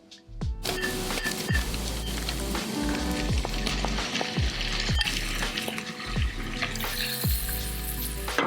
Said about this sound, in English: Now I'm just gonna dump this whole entire thing into the garlic butter.